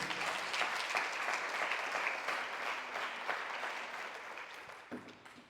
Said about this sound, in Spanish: Cuando da una ofrenda de palmas